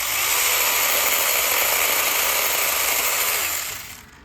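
Hardell 6-inch handheld mini chainsaw cutting through a small limb, a loud steady high-pitched whine that holds for about three and a half seconds, then winds down and fades.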